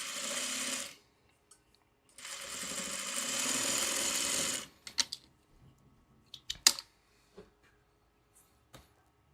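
Sewing machine stitching quilt blocks in two sustained runs, each a steady whirring burst of a couple of seconds, followed by sparse clicks and handling taps.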